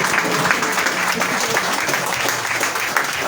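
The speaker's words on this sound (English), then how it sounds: "I would like to ask everybody to stand up and give a round of applause" An audience at a handing-over ceremony at the Ministry of Information and Communications applauds the minister with dense, sustained clapping that holds steady from start to finish, with a faint murmur of voices underneath.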